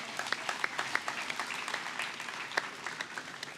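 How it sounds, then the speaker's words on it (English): An audience applauds new flight instructors at a gathering, with scattered individual claps over a general wash of applause. "Round of applause for our new instructors."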